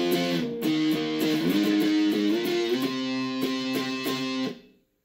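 Electric guitar playing the power chord riff, clean and loud up close, a run of sustained chords shifting in pitch with short gaps between strums, then ringing out and fading.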